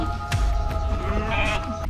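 Breeding sheep bleating on a Vietnamese livestock farm: a couple of nasal, wavering bleats rise over low background noise, fairly close and with no one speaking.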